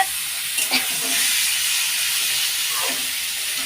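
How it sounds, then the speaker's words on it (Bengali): Fish frying in spiced oil in a pan, a loud close steady hiss of sizzling with a couple of brief stirring scrapes near the start. "মাছটা হালকা করে ভেজে নেবো এরকম করে নাড়াচাড়া করে নেব"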